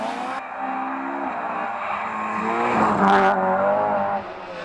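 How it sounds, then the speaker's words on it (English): A rear-wheel drive Toyota Starlet rally car howls through a drift on a rally stage, its engine note rising and falling with a brief tire scrub mid-slide, moderately loud and alone. "He drifted and wrestled his howling rear-wheel drive Toyota Starlet to a fantastic second place"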